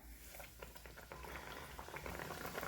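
Sopapilla dough frying in hot oil, a steady crackling bubble with dense fine pops that builds slightly over the few seconds, close and fairly quiet, with no talk.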